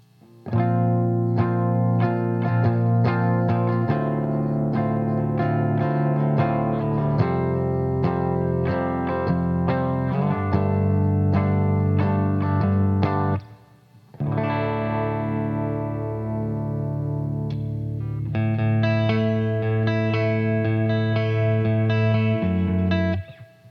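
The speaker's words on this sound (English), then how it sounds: "So here's just a regular old spring reverb, and let me adjust the mix." Electric guitar through a Kemper amp's spring reverb plays a run of chords and single notes, with a brief pause midway before ringing chords resume.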